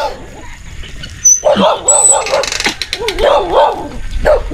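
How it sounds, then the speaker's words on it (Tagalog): Several angry dogs bark and yip in short, irregular bursts, moderately close, with some mechanical clattering in the background, in the highlands of Ligao City, Philippines. "Galit yung mga aso."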